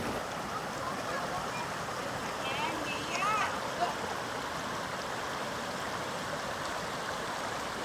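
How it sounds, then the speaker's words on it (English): Steady rushing water roars continuously from a nearby waterfall in Mammoth Lakes, with faint wind. "the waterfall is right behind me"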